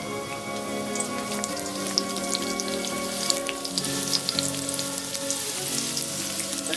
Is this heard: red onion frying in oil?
yes